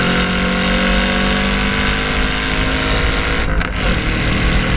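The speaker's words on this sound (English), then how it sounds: "This car sounds so good" A 2017 Chevy SS engine runs steadily with a loud, continuous rumble and a brief dip near the end, with no talking.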